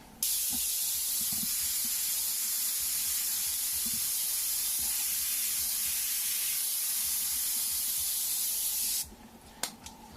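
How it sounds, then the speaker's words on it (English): An airbrush sprays black paint in one continuous close hiss lasting about nine seconds, then cuts off abruptly, leaving quiet with a couple of small clicks. "We're going to take black and we're just going to go and just put this fuzzy little spray back and forth"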